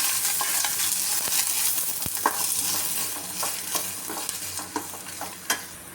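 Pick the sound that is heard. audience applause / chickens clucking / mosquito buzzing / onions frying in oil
onions frying in oil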